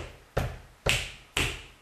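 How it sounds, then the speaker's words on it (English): Sharp taps in a steady beat, three distinct hits about half a second apart with a fourth beginning at the end, close and fairly faint over a quiet background. "Now I'm gonna tap."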